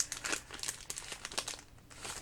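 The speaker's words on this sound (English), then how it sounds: "I apologize for the wrapping sounds." Plastic wrapping on a junk journal kit crinkling during a flip through, close-up bursts of crackling and rustling in quick uneven handling.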